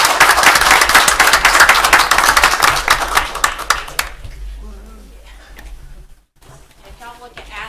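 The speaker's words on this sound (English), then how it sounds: "Let's give this group a round of" At a Florence city council meeting, the audience gives dense, steady applause for about four seconds; it then stops abruptly, leaving quiet room sound and a few faint voices.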